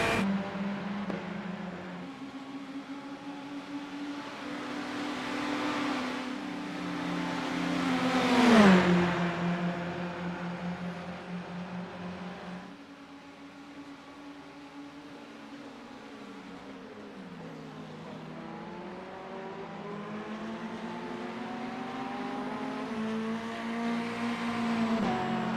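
Race car engines droning in iRacing during the Bathurst 12 Hour, several harmonic engine tones rising and falling as cars run close together, with one brief louder surge as a car passes near, steady and without talk.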